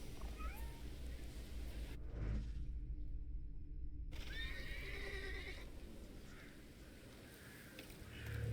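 A horse whinnies with a rising, wavering neigh amid layered ambience in the PC game The Thaumaturge, followed by shorter nickers; moderately loud against a low background rumble.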